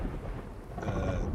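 Thunder from lightning in Terraria, a deep low rumble that rises and swells near the end, mixed with rain hiss, with no one talking.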